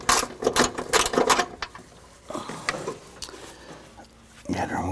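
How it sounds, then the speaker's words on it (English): A wrench ratchets on an engine mount bolt of a 2009-2015 Honda Pilot, close bursts of rapid clicking that pause and resume, with someone talking in between. "put the wrench back on it"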